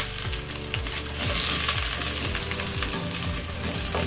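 Shallots and chopped mushrooms sweating in a Dutch oven produce a steady, close sizzle with light stirring scrapes and clinks, moderately loud throughout and free of talk.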